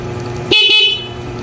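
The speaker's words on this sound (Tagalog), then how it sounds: "Are naman ay busina. From stock horn" A stock car horn blares loudly in one sustained honk lasting about half a second, cutting sharply over a low engine idle that continues afterward.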